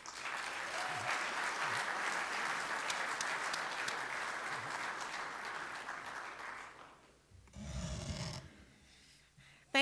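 Rotary meeting audience gives sustained applause for about seven seconds welcoming a speaker, dense clapping that tapers off, followed by a brief burst of other noise near the end.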